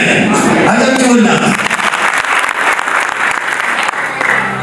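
Audience applause at an Ethiopian church service of preaching and revelation, a dense, steady roar of many hands clapping close by, with a raised voice calling out over it at the start.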